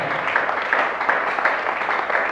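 A church congregation applauds together, a steady wash of clapping with faint rhythmic pulses, filling the room evenly without a break for a few seconds.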